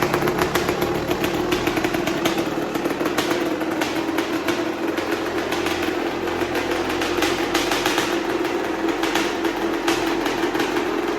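A rebuilt 2021 Yamaha YZ250 two-stroke dirt bike engine runs steadily and close by, a continuous buzzing drone with slight shifts in revs throughout and no talking.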